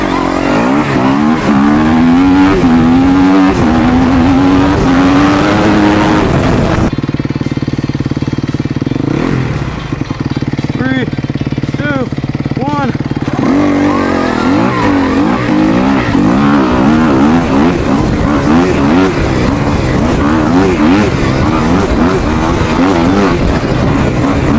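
An electric Surron Storm Bee dirt bike races, giving a loud, continuous motor whine whose pitch surges and wavers, then dips into a quieter stretch midway before climbing strongly again.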